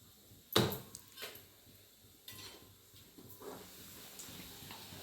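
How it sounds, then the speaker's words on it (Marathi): Puris of besan and jowar flour frying in hot oil: a soft steady hiss with a loud clatter near the start and a few lighter utensil scrapes and knocks, close by, with no voices. "तळून घेऊ."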